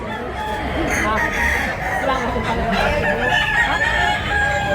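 Roosters crow amid the hubbub of a gamecock market in Tabunok, Talisay, Cebu, the calls mixed into steady crowd noise and nearby voices.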